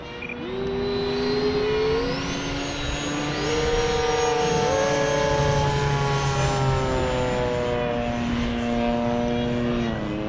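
An FMS F/A-18F Super Hornet RC model jet takes off right to left, its engine a loud, steady whine with rising and falling tonal sweeps that holds throughout and gradually fades.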